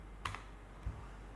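Two quiet keypresses on a computer keyboard while typing a command into a terminal, roughly half a second apart, faint and isolated against low room noise.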